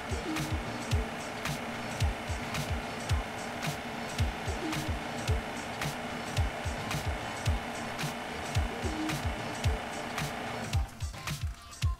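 An ECO-2020 refrigerant recovery machine runs its purge cycle with a regular clicking, pulsing rhythm over a steady hum, then changes and winds down to shut off near the end.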